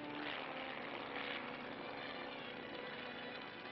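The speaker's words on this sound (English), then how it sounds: "Among the many missions performed by the Navy helicopters, swift recovery of samples from the water and land cables proves the versatility of these craft." A Navy helicopter flies during a 1948 nuclear test operation, its rotor and engine making a steady, loud, broadband drone that holds throughout with no voices.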